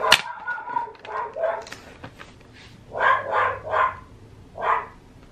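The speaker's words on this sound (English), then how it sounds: "The dogs are going crazy." Several dogs bark excitedly indoors in short bursts of sharp yaps, loud and close, with pauses between the volleys and no talk over them.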